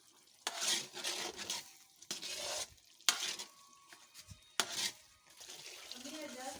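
Semolina halwa being stirred in a pot, giving several bursts of scraping and stirring with brief pauses between, close and moderately loud, with light frying crackle underneath.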